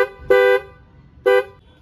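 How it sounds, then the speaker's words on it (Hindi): An aftermarket horn on a 2023 KTM 390 Adventure motorcycle gives two short, loud, bright tonal blasts about a second apart, close by. "सो ये हॉर्न भाई ने आफ्टर मार्केट लगाया है"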